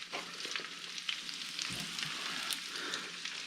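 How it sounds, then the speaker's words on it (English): Cabbage frying in hot butter in a pan, a steady close sizzle with light crackle throughout, heard alone without talk. "half a stick of butter or whatever is good and hot, good and warm, we're going to cook our cabbage"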